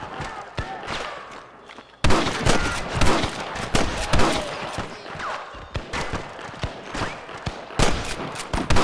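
Red Dead Redemption gunfire cracks in a chaotic firefight, with overlapping shots and heavy thuds. The shooting grows louder and denser partway through, and background game sounds run beneath it.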